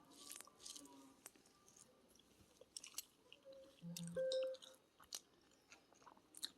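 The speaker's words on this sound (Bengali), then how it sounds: "তো চলো আমি খাওয়া শুরু করি। গরম ভাতের সাথে গরম গরম তরকারি খুব সুন্দর লাগে খেতে।" Close, quiet chewing of hot rice with curry, with soft wet squishes, occasional bites and small clicks spread irregularly, one louder mouthful near the middle.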